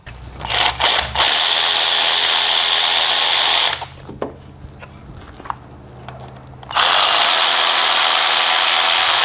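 A power tool whirs loudly up close while tightening fuel injector parts on a Nissan 3.5L V6, running in two long bursts around a quieter stretch of ratcheting clicks and handling noises.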